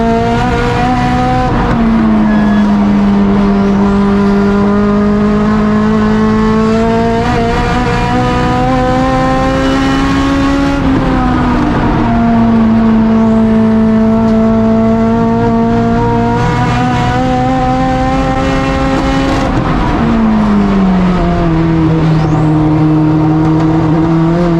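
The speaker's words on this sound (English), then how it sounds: "And then the car's breaking up worse now, like really bad." A race car on track runs with its engine breaking up and misfiring from an electrical fault, a loud, close, sustained engine drone that wavers and drops in pitch at shifts and sags across the run.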